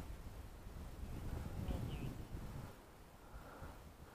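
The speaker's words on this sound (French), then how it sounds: "le vent est complètement tourbillonnant" Swirling wind gusts buffet the microphone outdoors on an open flying field, a low, rough rumble that swells and fades over a few seconds, fairly faint overall.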